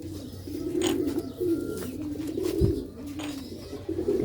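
Sialkoti pigeons coo close by with low, rolling repeated calls, a thump partway through and faint background noise.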